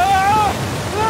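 Rushing water from a waterfall in the jungle adventure game Uncharted 4 roars as a loud, steady wash of noise, with a character's voice speaking over it.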